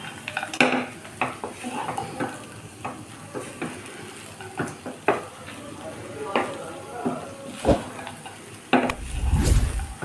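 Chirar polao with fried nuts and raisins being stirred and mixed in a pan: repeated scraping and clinking of a utensil against metal over a soft sizzle, with a person talking.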